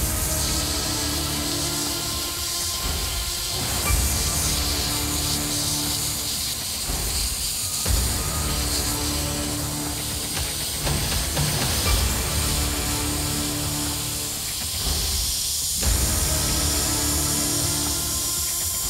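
Airbrush spraying pre-mixed light grey paint over a painted spaceship, a steady close hiss of air and atomised paint running almost continuously with brief dips and restarts.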